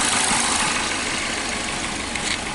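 A Toyota Fielder engine with cylinder misfires idles roughly, a dense, close, steady mechanical rumble with uneven texture filling the short stretch and no talk over it.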